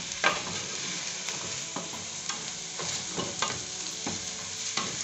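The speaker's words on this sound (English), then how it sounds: "the rice is well mixed with the oil." Rice stir-fried with oil in a hot pan for vegetable fried rice, a constant loud sizzle broken by repeated scraping and tossing strokes at an uneven rhythm.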